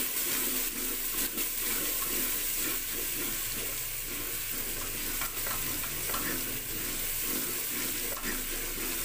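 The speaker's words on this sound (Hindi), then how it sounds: "ये सब्ज़ मिर्च ऐड करेंगे इसमें। और इसको अच्छी तरह भून लेंगे।" Green chillies frying in a pan, a continuous sizzle with occasional stirring scrapes, steady and fairly close.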